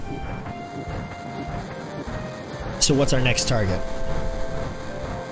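A train departs in the video game Final Fantasy 7, a steady rolling rumble with a burst of sharp metallic clanks partway through, heard under a character's spoken line.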